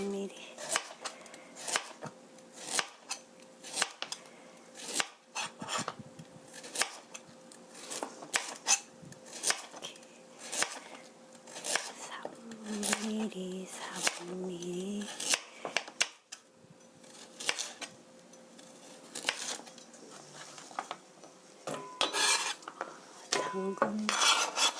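A knife slicing carrots into 3mm pieces on a board, a long run of close, crisp, regularly spaced cuts with occasional clatter of the blade and dish.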